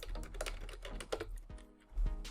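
Rapid clicking of computer keys being typed, a quick irregular burst of keystrokes with a slightly louder tap near the end.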